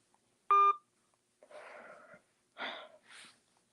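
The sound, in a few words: telephone dialing tones, calling back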